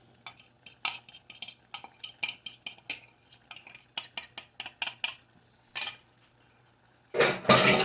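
Spoon stirring a cornstarch slurry into apple turnover filling in a pan: rapid rhythmic scraping and clinking strokes in quick bursts, a short pause, then a louder final scrape, close and alone.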